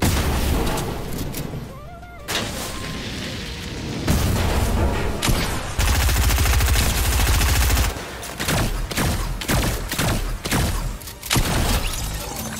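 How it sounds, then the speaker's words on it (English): Rapid bursts of gunfire and heavy shotgun blasts in the Fortnite video game, a dense, loud run of repeated shots with sharp transients and a few pauses, no talk. "My shotgun didn't fire the second time."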